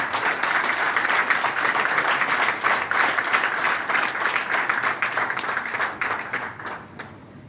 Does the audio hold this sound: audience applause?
yes